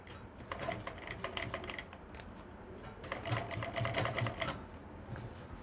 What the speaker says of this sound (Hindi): यहाँ से सिलाई मैं करूँगा स्टार्ट और सिलाई लगानी बिल्कुल किनारे पर